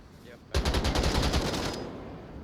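Sudden burst of rapid automatic gunfire in the VR shooter Onward during a competitive match, sharp and loud, firing in a quick rhythmic string for about a second before trailing off into fading echo over a low background.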